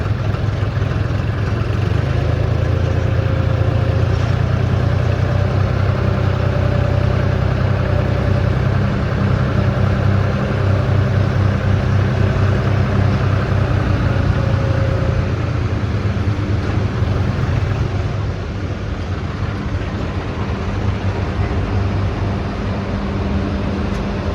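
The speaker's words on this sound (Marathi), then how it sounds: "आपण बी आपला ट्रॅक्टर पुढं घेऊन टाकू" A tractor engine runs steadily and loud throughout, a low droning rumble with a constant mechanical hum that eases slightly near the end, with no talking.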